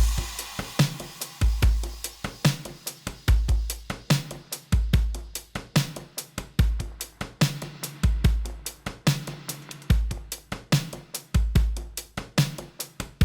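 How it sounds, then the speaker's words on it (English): Electronic drum kit loop from an indie-pop love song, punchy kicks and crisp snare hits in a steady repeating groove, loud and continuous without any voice. "So drum kit wise, we have something that sounds like this."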